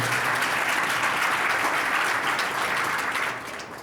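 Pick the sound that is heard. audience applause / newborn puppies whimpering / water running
audience applause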